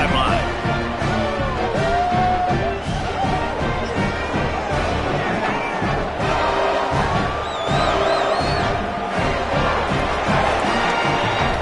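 A home crowd at a college football game, Southern Miss Golden Eagles at UAB, roars and cheers just before kickoff. The sustained, loud stadium noise is blended with music and voices.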